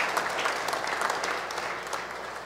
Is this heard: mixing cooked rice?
no